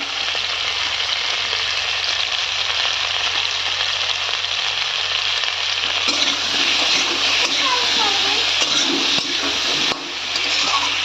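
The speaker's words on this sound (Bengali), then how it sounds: "মিডিয়াম আছে আলুটাকে ভাজছি আমি" Loud, continuous sizzling of potatoes frying in oil for a fish curry, close up, with occasional stirring noises toward the end.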